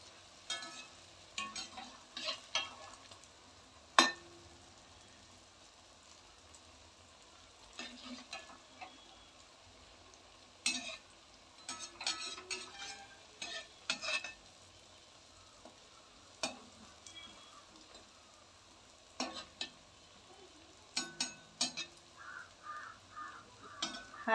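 Wheat flour gulgule frying in oil over a low flame, a faint steady sizzle broken by scattered clinks and scrapes of a utensil in the pan, with distant crows cawing now and then.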